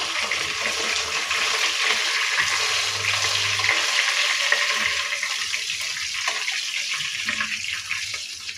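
Fish frying in hot oil makes a loud, continuous hiss and crackle that runs the whole length without pause, steady in level with a slight fade toward the end.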